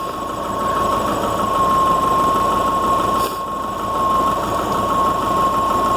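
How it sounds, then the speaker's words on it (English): A car engine idles steadily up close with a constant hum and rattle, briefly dipping and then recovering its speed partway through. "Aside from a little bit of fluctuation in idle speed, you can kind of hear it."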